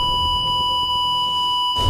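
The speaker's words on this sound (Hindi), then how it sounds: "उसके कान में तेज बीप जैसी आवाज आने लगी।" A loud, steady electronic beep sound effect holds one unwavering high tone for nearly two seconds, alone, then cuts off abruptly.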